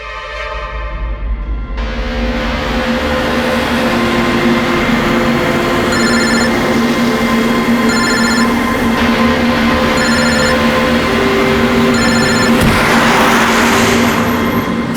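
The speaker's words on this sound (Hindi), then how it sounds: "कब से लैंडलाइन पे फोन कर रहा हूं सर, फोन ही नहीं उठा रहे" Landline telephone ringing unanswered, four regular rings spaced about two seconds apart, sounding over steady loud background noise with no one picking up.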